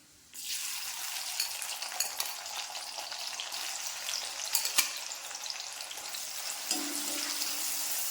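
Beetroot pieces fry steadily in hot sesame oil for a pickle, a dense continuous sizzle close by with occasional crackles and no voices.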